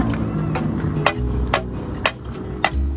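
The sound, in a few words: pounding a burger patty flat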